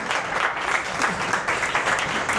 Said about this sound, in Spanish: Aplaudidle a Enrique, por favor.